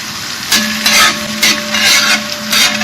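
Sliced carrots for lecho fry in a hot pan, a constant sizzle broken by several loud, rhythmic stirring and scraping strokes of a utensil against the pan.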